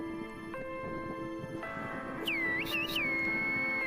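Short whistled notes with swooping pitch emerge midway, faint against a steady humming background.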